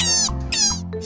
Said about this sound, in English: Rabbit squeaks.